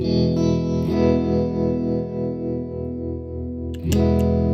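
A guitar chord is strummed once through a Mojo Hand FX RVT reverb pedal set to half depth and minimum rate, ringing out with a long sustained wash, followed by a fresh strum near the end.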